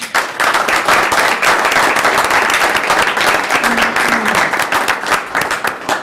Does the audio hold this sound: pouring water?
no